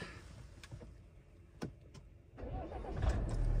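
A Tata Safari engine cranks and catches on a cold 2 °C morning amid snowfall in Spiti Valley, swelling into a louder, steady idle rumble after a quieter stretch with a few sharp clicks.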